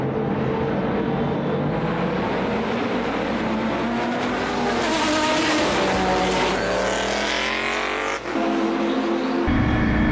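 GT endurance race cars, including Saleen S7s, at an Endurance Racing Legends event at Spa-Francorchamps, roaring loudly and continuously, with engine pitch rising and sweeping as the cars pass close by.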